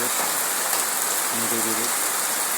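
Steady rain patters on tree leaves outdoors in a calm, quiet setting, a constant broadband hiss with no pauses and a brief murmur of speech partway through.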